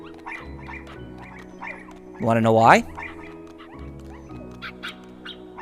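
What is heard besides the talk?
Dalmatian puppies barking in video game Kingdom Hearts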